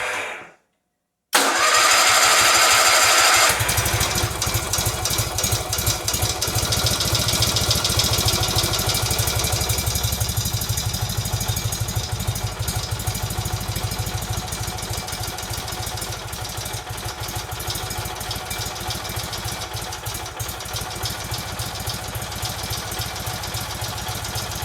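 Kohler Magnum M18 engine on a Cub Cadet 1882 cold-started on choke without throttle, a brief cranking whir that catches into a loud, steady, close idle that runs on and slowly settles.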